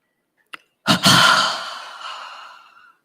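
During a breathing exercise, a person makes a short puff followed by a long, forceful breathy exhalation that fades slowly, close and alone in an otherwise quiet space.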